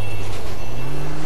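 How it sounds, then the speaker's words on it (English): A train rolls past in the GTA IV video game, a loud, close, steady rumble with a low droning hum throughout. "You can hear the train."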